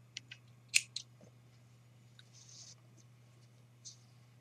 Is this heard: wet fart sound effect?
no